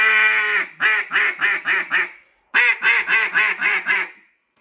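A hand-blown Nosedive duck call, a beginner-friendly model, sounds two loud descending runs of raspy quacks, about six in each run, with a brief pause between them.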